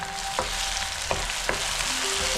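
Tomato and spice paste frying for prawn curry, a dense continuous sizzle punctuated by three short spatula scrapes at close range.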